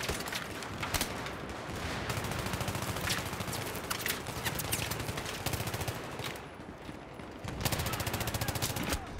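Dense, rapid automatic gunfire and fusillades from a Battlefield 3 match on the Metro map, loud and continuous for the whole stretch with overlapping bursts and only a brief dip before the shooting swells again.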